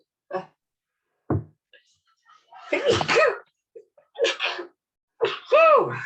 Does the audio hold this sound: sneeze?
yes